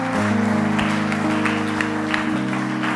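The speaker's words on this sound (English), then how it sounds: "A mighty hand clap to her." Applause from a church congregation at a Sunday service, a steady wash of clapping that runs the whole stretch at even loudness over a sustained organ-like tone.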